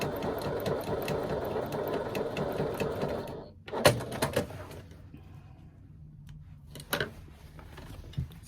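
A sewing machine stitches across a seam in a steady mechanical whir for about three seconds, then stops; a few faint clicks and handling knocks follow in the quiet.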